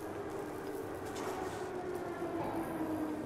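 Train in a video game rumbles past with a steady low rolling drone and faint metallic rattle, continuous and moderately close throughout, with no talk.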